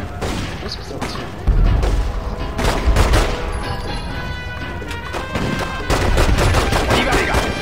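Rapid gunfire in The Godfather II video game, loud overlapping bursts of shots and impacts that come in repeated volleys across the clip, close and dense with crashing hits between them.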